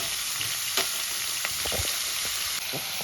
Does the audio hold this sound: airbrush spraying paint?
no